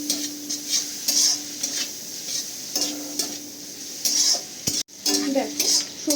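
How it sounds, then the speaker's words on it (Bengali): Vegetables stir-fry in a pan, a soft continuous sizzle broken by repeated scraping and clinking strokes of a utensil against the pan, close and fairly loud, with no talking. "ভালো করে এটাকে একটু মিশিয়ে নেবো"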